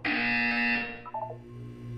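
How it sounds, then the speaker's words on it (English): A buzzer sounds in the video game Portal 2 as a loud, bright electronic tone lasting under a second, followed by a few short fading beeps and a low steady hum. "You will hear a buzzer. When you hear the buzzer, look down at the floor."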